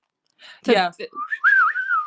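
A short whistled melody in a song follows a brief vocal burst. The whistle is clear and close, with a few quick rising and falling notes.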